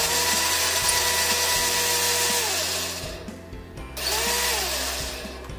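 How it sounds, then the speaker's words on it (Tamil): A kitchen mixer grinder grinds tomatoes and curry leaves in a home kitchen, a loud steady motor whir that drops briefly around the middle as the blades pause, then surges back up, with no talking. "அந்த தக்காளியுமே வந்து நம்ம இதில் ஆட் பண்ணிவிட்டு அதையுமே வந்து கிரைண்ட் பண்ணி எடுத்து வச்சுக்கலாம்."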